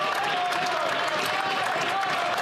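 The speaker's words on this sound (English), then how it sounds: "they're all standing up and clapping still" A parliamentary audience stands and applauds during question period, a continuous dense wash of clapping and crowd noise with a voice heard faintly under it.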